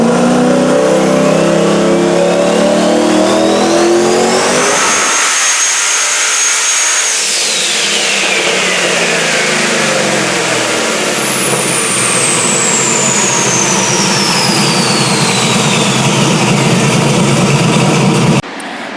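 A turbocharged stock-block car engine runs on a dyno: loud and close, it revs up through rising tones to a high whine, drops and climbs again, and then cuts off abruptly.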